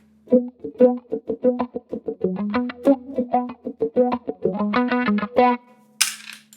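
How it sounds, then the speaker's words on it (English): An electric guitar played through an auto-wah filter on a Fractal FM3, with the threshold raised, picks out a choppy riff of rapid plucked notes whose tone sweeps and quacks, loud and alone, ending in a brief noisy burst. "I'll play a little bit, try to play the same ref, and I'll crank up the threshold little by little"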